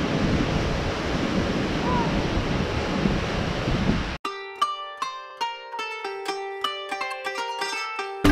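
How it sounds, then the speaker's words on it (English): Strong wind gusting at an Oceanside beach with ocean surf rolling in, a steady loud roar of rushing air and waves that cuts off abruptly halfway, followed by plucked music. "But it's really windy today."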